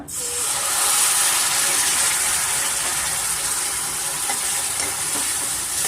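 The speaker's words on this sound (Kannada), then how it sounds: "ಸಾಂಬಾರು ಸಾರಿ ಪುಲೋಗ್ರೆ ಪೌಡರ್ ಒಂದು ಸ್ಪೂನು ಸೇರಿಸ್ತಾ ಇದ್ದೀನಿ ಸ್ವಲ್ಪ ಫ್ರೈ ಮಾಡಿಕೊಂಡು" Puliyogare powder fries in a hot pan, giving a dense, even hiss that stays loud and steady throughout with no voices over it.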